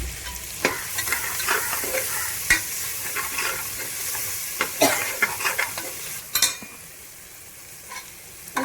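Coriander and mint leaves sizzle in a hot pan while being stirred, a steady frying hiss broken by scraping spoon strokes and sharp clicks.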